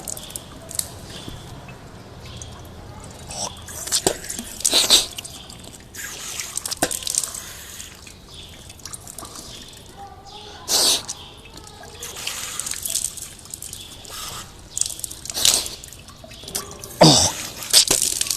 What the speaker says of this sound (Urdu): اب ہم نے بائیں ہاتھ میں پانی لینا ہے اور ناک کا پانی ڈالنا ہے.